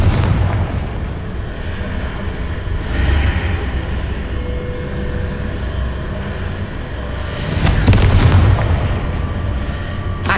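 Booming, explosive blasts from the Confringo fire spell in the video game Hogwarts Legacy, with a heavy rumbling bed throughout and a louder, crackling burst near the end.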